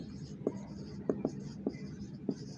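Chalk or pen tapping and scratching on a board while writing 2py and 2pz orbital labels in a chemistry lesson, giving five or six short, sharp strokes at uneven intervals over a low background hum.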